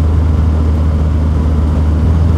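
Steady, loud drone of a 1972 MG Midget's 1275cc engine cruising at 2,500 revs and about 40 mph, a constant low rumble with no change in pitch and no voices.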